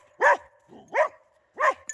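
A dog barks three times in loud, close, evenly spaced barks across two seconds, with a softer whine between the first two, outdoors on a farm.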